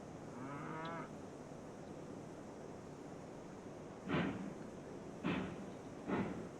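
Cattle lowing in the train game Railroads Online, several moos in a row near the end, each fairly close and distinct over a steady ambient hiss.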